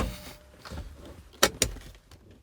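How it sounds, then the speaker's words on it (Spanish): Rough second-row seat adjustment mechanism in a DFSK 580 SUV: a faint mechanical slide and shuffle, then two sharp close clunks as the seat locks into position. "Es un poquito tosco el mecanismo, pero aquí quedaría la posición para mi estatura en el asiento de la segunda fila"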